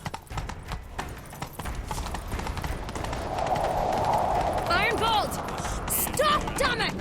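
Horse hooves gallop in a rapid clip-clop rhythm during a chase in The Witcher 3: Wild Hunt, joined near the end by a brief whinny and voices talking over the hoofbeats.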